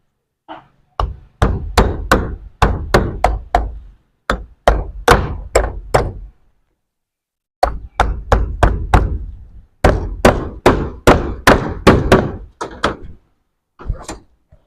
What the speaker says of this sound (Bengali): এবার পেরেক মেরে দেবো